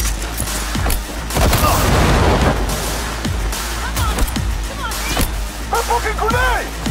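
Gunfire and a grenade blast in the video game Cyberpunk 2077, bursts of rapid shots and booming impacts packed densely over several seconds, loud and chaotic, with shouted voices mixed in.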